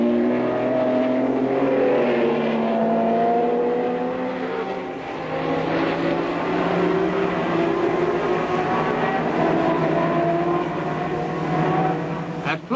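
Formula 1 race cars from 1967 roar away together at the Nürburgring, their engine notes rising and overlapping as the pack accelerates along the back straight, loud and sustained throughout.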